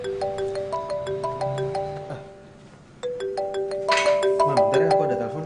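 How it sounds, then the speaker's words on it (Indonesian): A mobile phone ringtone for an incoming call plays a bright, repeating melodic tune in a home scene from an Indonesian TV drama. It pauses briefly midway, then resumes more loudly over a faint background murmur. "aku ada telepon"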